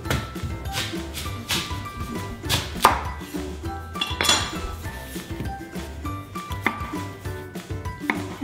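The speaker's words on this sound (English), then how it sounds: "I'm just gonna start by cutting the taro into 1-inch cubes" A knife chops through taro root into cubes on a cutting board, giving irregular sharp knocks and clinks, close and clear with no talking.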